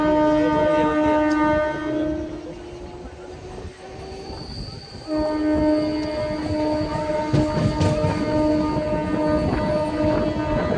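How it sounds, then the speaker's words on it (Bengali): A Panskura–Digha local train runs along a single-line track, with a loud, continuous rumble of wheels and carriages and sustained high squealing tones that drop briefly midway, then return just as strong. "ট্রেন এখন আমাদের প্রবেশ করলো সিঙ্গেল লাইনে।"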